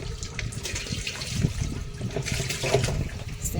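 Water pours and splashes steadily nearby, a continuous running, gurgling flow with small sloshes.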